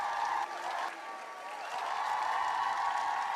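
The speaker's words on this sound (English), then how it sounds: "Can you give him one more round of applause?" At a fifth-grade moving-up ceremony, a crowd claps in a sustained wash of applause, slightly reverberant and moderately loud, with cheering tones and murmur mixed in.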